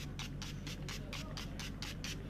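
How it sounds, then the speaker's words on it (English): Makeup setting spray misted onto a face in a rapid run of about nine short, even spritzes, each a brief soft hiss close to the microphone, with no talking. "ni adalah setting spray Okaya seperti biasa lah"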